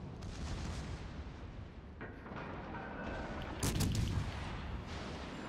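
Heavy naval guns of a Pyotr Velikiy cruiser fire in a World of Warships battle, with deep booming salvos over a rumbling sea-and-engine bed and one louder blast near the end, no voices.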